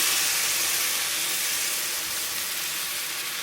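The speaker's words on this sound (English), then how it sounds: "To this, we're going to add a can of diced tomatoes with the juice." Canned diced tomatoes with their juice hitting hot browning tofu in a pan, giving a loud, steady broadband sizzle and hiss that fills the whole moment with no pauses and no voices.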